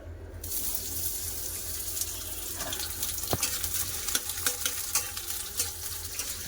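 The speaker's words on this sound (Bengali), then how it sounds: "বেরেস্তা ভাজার জন্য পেঁয়াজ দিয়ে দেবো" Onions frying in hot white oil for beresta in a home kitchen, a steady hiss of oil with a sharp crackle and bursts of spattering that build toward the end, with no talking.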